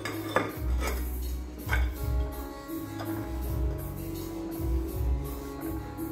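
A Yixing purple-clay teapot and matching cups clink and tap as they are handled, with soft knocks and brief ceramic rattles spaced every second or so against a quiet room.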